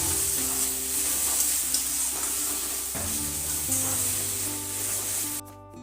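Ginger, garlic and onion paste sizzling in a pan of fried onions for a fish curry with brinjal, stirred with scraping spoon strokes; steady close frying hiss that cuts off abruptly near the end.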